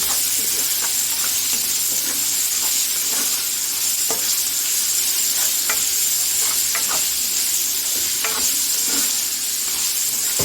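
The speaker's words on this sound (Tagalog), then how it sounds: "Inihalo ko na yung sibuyas, carrots, Brussels sprouts, pepper" Onion, carrots, Brussels sprouts and pepper stir-fried in a pan: a loud, steady sizzle close up, broken by repeated light scrapes and taps of a spatula at an irregular pace.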